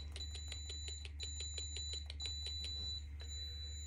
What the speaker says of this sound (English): Not sure what that beeping is